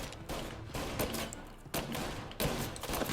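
Rapid gunfire in Mafia: Definitive Edition, several sharp overlapping bursts of shots in quick succession, fairly faint in the mix.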